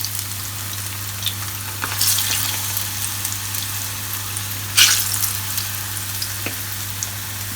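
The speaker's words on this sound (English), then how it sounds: "So the frying some plantain for today" Plantain slices sizzle and crackle steadily in hot oil, with an occasional louder spatter over a low electrical hum.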